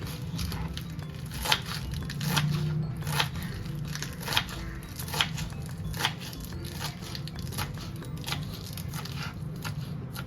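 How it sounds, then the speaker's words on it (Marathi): Spinach leaves with their stems removed being finely chopped on a board, a quick, irregular run of crisp knife taps and leafy crunches, close and fairly quiet, with no voices. "बारीक चिरायचं एकदम नुसती पानच घ्यायची पालकची पुढचे देठ काढून टाकायचे"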